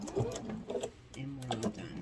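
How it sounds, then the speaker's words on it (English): A sewing machine runs a backward stitch across the edge of a fabric grocery bag in short quiet bursts of rapid mechanical chatter, pausing briefly between runs. "we're going to do a backward stitch over that side just to make it more secure"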